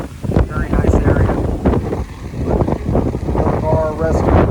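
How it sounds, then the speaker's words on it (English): Gusty wind buffeting the microphone in a steady rumbling roar near street food stalls and bars on the Pacific coast, with voices and faint background activity partly buried beneath it. "It is still as windy as can be."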